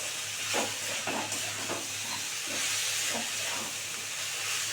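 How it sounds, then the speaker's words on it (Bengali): Egg chow mein being stirred and fried in a pan, a steady sizzling hiss with soft scraping stirs repeating throughout, close and moderately quiet with no talking. "একটু নাড়াচাড়া না করলে ভালো লাগবে না একদম কেউ কারোর গায়ের সঙ্গে লাগবে না"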